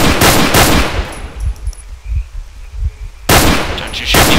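Assault rifle gunfire in STALKER: Call of Pripyat, loud rapid automatic bursts up close, a long burst, a pause with faint distant pops, then another heavy burst.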